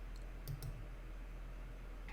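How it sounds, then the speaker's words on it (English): Two quick, faint mouse clicks close together, a short pause, then near silence with a low steady hum behind. "Now we can just click OK to confirm."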